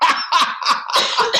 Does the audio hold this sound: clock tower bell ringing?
no